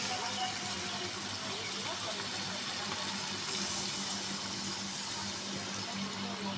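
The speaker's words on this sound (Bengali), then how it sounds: "এখন আমি জল দিয়ে দেবো।" Water pours into a pan of browned, spiced duck curry, making a steady, continuous rushing splash at moderate volume that lasts the whole time without a break.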